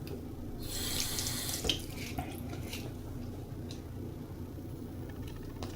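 Tap water runs steadily into a sink for wet sanding a yo-yo, a constant close hiss and splash with a few small clinks and drips over it.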